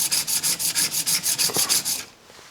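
A block plane's sole is rubbed back and forth on a 300 grit sharpening stone in about a dozen quick, even gritty strokes, close and clear, before the rasping stops.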